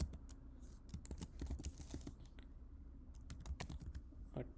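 Someone types a test message on a computer keyboard, with irregular quick key clicks and occasional heavier taps, close and quiet, with no talking.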